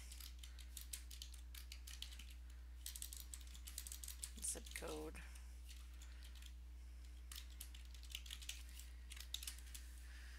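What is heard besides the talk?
typing on a computer keyboard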